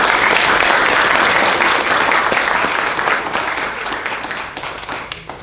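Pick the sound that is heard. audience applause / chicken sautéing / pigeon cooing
audience applause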